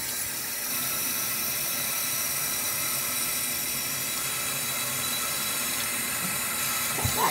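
Tap water runs steadily into a sink, a continuous broadband hiss that stays even throughout, with a small knock or clatter near the end.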